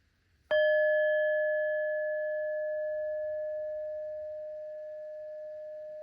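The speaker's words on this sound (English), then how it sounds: "I'm going to ring my bell, so I'm going to count to 3." A single bell, struck once, rings with a sharp attack and then a pure, clear tone that sustains and fades very slowly for several seconds, alone in a quiet room.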